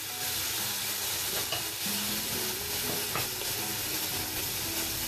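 Lamb meat pieces sizzle loudly and steadily in a hot pan, with an occasional scrape of stirring and no talk.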